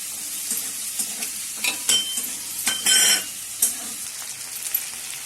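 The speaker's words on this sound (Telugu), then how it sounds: "ఇది బాగా వేగిన తర్వాత పచ్చిమిరపకాయలు, అల్లం, వెల్లుల్లి వేయాలి." Green chillies, ginger and garlic fry in a hot pan with a steady sizzle, broken by several bright crackling bursts and the scrape of stirring, with no talking.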